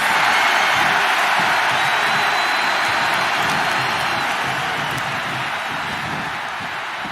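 Dense wrestling arena crowd in WWE 2K25 cheering and roaring steadily, loud and continuous, slowly easing off toward the end, with commentary talk faintly underneath.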